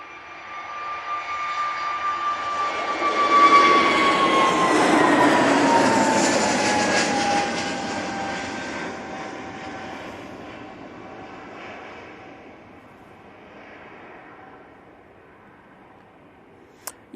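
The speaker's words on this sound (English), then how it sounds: "Off to Amsterdam we go with this A380 Neo for EasyJet." An EasyJet A320neo jet departing Manchester Airport for Amsterdam, engine roar swelling to a peak with whining tones then slowly fading into the distance as the aircraft climbs away, a faint click at the end.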